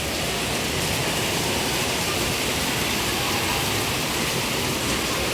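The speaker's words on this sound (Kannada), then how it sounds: "ಮಳೆನೇ ಬಂತು" Heavy rain falls in an unbroken, loud, dense wash of noise with no pauses or voices.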